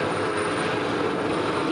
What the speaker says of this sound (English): the propellers of this helicopter going